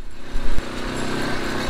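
A 212cc Predator 6.5 horsepower small engine powers a quad truck, giving a steady, buzzy single-cylinder drone with a short louder burst near the start, close and continuous.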